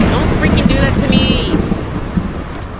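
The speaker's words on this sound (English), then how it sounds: "that was a hell of a thunderstorm" Thunder rolls through a horror video game night scene, a low continuous rumble with rain hiss, fairly loud and steady with faint voice-like sounds mixed in.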